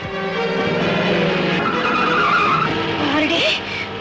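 Cars speed through a film chase scene, with a loud sustained engine roar and screeching tire skids, a higher squeal rising near the end amid dramatic noise; voices may be faintly mixed in.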